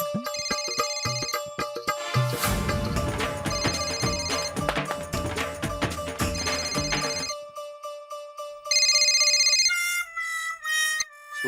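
A telephone ringtone plays loudly as a melodic electronic tune, looping for several seconds before a pause and then a few brighter repeated beeping phrases near the end.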